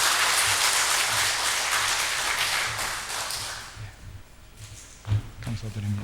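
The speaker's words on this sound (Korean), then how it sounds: "우리 성도님들은 큰 격려의 박수 다시 한번 부탁을 드리겠습니다." Full, loud applause from a church congregation during a Sunday service, dense clapping that fades out over a few seconds, followed by a few taps and shuffling noises.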